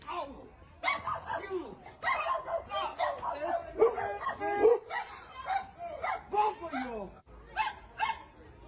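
A dog barks and yips in short bursts right after being punched, its yelps mixed in among loud, agitated talking and shouting that runs throughout.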